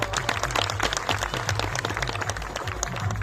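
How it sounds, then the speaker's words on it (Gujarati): A crowd at a welcome gathering for MLA Chaitar Vasava applauds with dense, sustained clapping that stays loud and even from start to finish. "આપણા ધારાસભ્ય માટે જોરદાર તાળીઓથી વધાવી લઈએ મિત્રો।"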